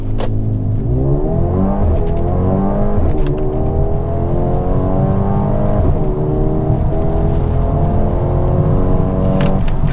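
A 2022 Mercedes GLB35 AMG accelerates hard from a launch-control start, its engine rising loudly through the revs with distinct upshifts, recorded close from inside the cabin.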